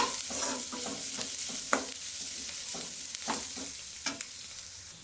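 Vegetable palya frying on a home stove, continuous sizzle broken by regular stirring strokes and scrapes, close and moderately loud.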